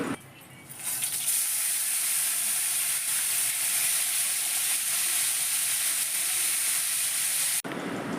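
Dried anchovies frying in hot oil while a ladle stirs them, a loud steady sizzle and hiss that swells after the first second and cuts off abruptly near the end, with no voices.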